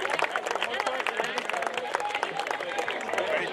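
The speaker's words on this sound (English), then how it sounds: "Give him a round of applause," A crowd at a baseball Division A final at Wright Field applauds the umpiring coordinator, brisk scattered clapping and cheering mixed with voices, fairly near and steady.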